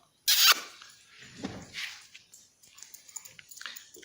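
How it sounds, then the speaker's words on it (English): Dog at a camp shelter making close, sharp sniffing and snuffling bursts, a loud initial snort followed by quieter whimpering scrabbles and small noises, with no talking. "There's the dog."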